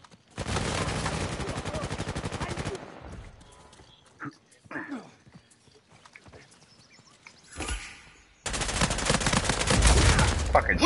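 Bursts of rapid gunfire in Uncharted 4 multiplayer, loud dense volleys at the start and end with quieter scattered shots and game effects in between.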